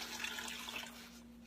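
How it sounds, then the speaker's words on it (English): Tap water runs steadily into an Instant Pot full of bones for bone broth, a continuous close hiss and splash that eases slightly toward the end, with no talk. "I want a good bit of water in there because I'm making bone broth."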